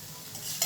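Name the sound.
food frying and sizzling in a pan, stirred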